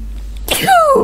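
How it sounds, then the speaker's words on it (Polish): A single loud sneeze erupts after a quiet low hum, a sharp burst trailing into a falling tonal exhale, close to the listener. "Oj, chyba zaraz kichnę."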